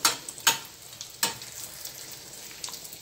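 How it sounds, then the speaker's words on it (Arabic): Vegetable patties of carrot, courgette and potato fry in oil in a pan, giving a soft sizzle broken by a few sharp spatter bursts and light handling noises, close and fairly quiet. "حطوهم يتحمروا في المقله شويه، يتحمروا ماشي يتقلاو"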